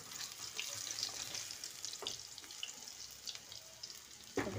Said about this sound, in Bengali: আলুগুলো আমার সুন্দর করে ভাজা হয়ে গেছে এবার আলুগুলো আমি তুলে নেব